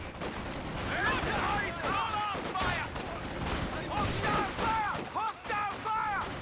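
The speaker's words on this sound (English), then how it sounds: "he's having his movement restricted by his bunker and now 2 machine guns" Machine guns rattle in sustained bursts during a Company of Heroes 2 battle, dense rapid fire with distant booms, while a voice talks over the action.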